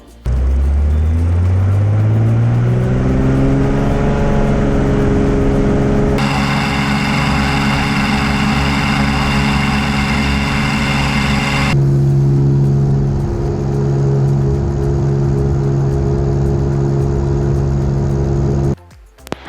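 A Cessna 210 engine drones loudly and continuously in flight, its pitch climbing early on and then holding a steady harmonic roar with shifts in tone, before cutting off abruptly at the end.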